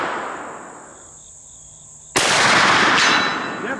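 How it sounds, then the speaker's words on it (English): A .500 Magnum sniper rifle fires one loud, sudden blast whose echo rolls on and fades, following a quieter stretch of ambient hiss and a faint tone. "Let's take another shot."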